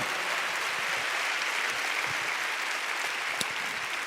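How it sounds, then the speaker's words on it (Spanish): A church congregation claps steadily and loudly for several seconds in a dense, continuous applause with no voices over it. "Dale un fuerte aplauso a la palabra del Señor."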